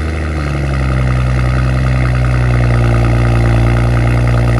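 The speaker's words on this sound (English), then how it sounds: "This car sounds absolutely amazing, especially in its cold starts." A 2023 BMW X3 M40i with its B58 engine fires up from a cold start, settling into a loud, close, steady high idle with a deep, even drone throughout and no voices.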